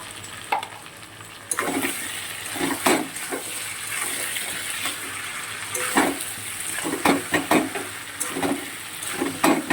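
Crab curry frying with ginger and garlic in a pan, a steady close sizzle broken by scraping stirs and bursts of spattering, no talk over it.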